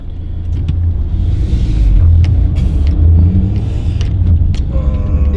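A car engine rumbles low and steady throughout, close and fairly loud, with faint higher mechanical whirs and no talk over it.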